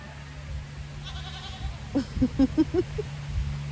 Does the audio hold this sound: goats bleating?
yes